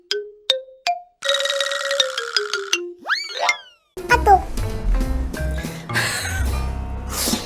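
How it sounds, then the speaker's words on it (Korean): Short electronic chimes and rising boing-like tones, then a burst of busy game music and effects from the Lineage W mobile game. A KakaoTalk message notification is among the sounds. "나한테 카톡을 보내셨네"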